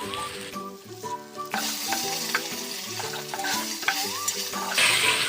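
Ingredients with leaves and chopped chilies are stir-fried in a pan for an Uruka feast, giving a close, soft sizzle with scraping stirs over background music.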